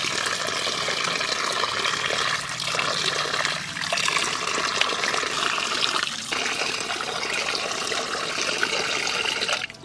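Water runs steadily over taro being washed, a close continuous splashing and trickling stream with slight changes in flow, no voices.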